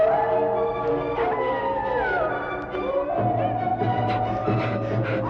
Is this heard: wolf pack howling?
yes